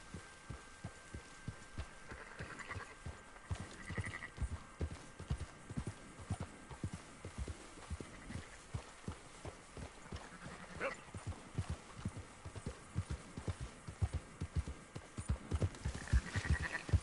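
Horse hooves clip-clop steadily at a brisk, even rhythm while herding sheep on horseback in Red Dead Redemption 2, close and moderately loud, with faint occasional bleats and no talk.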